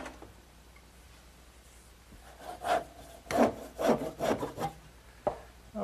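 Hand saw cutting a wooden candle stand column to length in a woodworking shop, starting faint and then giving a handful of close, rhythmic rasping strokes, with no talk.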